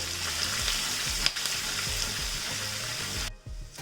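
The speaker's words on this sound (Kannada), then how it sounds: "ಎಲ್ಲನೂ ಕೂಡ ಒಟ್ಟಿಗೆ ಒಂದೇ ಸರ್ತಿ ಒಗ್ಗರಣೆನ ಹಾಕೋತಾ ಇದ್ದೀನಿ" Garlic and spices sizzle in hot oil as tempering for churumuri chivda, a steady close frying hiss with light stirring clinks, cutting off sharply near the end.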